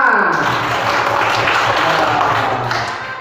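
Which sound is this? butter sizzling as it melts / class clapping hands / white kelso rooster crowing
class clapping hands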